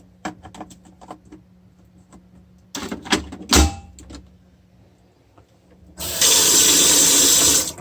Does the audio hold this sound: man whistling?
no